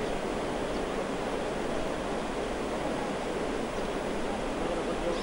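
Swollen rivers in flood in Chamoli and Pithoragarh, Uttarakhand, rush with a steady, dense roar of water, continuous and unbroken with no other sounds.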